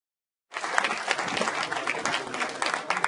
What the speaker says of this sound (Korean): 오늘 특히 환호와 응원, 함성을 지른 의원들이 있었습니다